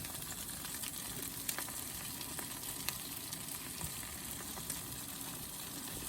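Salmon fillets seared in a pan with a couple of tablespoons of brown sugar, cooked on a wood stove, giving a steady close sizzle and crackle with small pops throughout.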